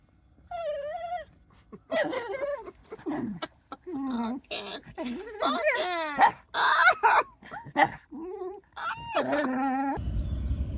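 Dogs whimper and whine close by in a run of high, wavering cries and short yips with brief pauses between them, ending in a sudden burst of rough noise.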